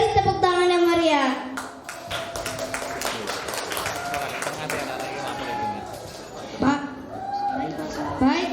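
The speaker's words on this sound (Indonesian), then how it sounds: "Beri tepuk tangan yang meriah" Audience at an elementary school grade 5 learning festival giving applause, dense clapping and chatter blending with children's voices, steady and fairly loud, with people speaking over it.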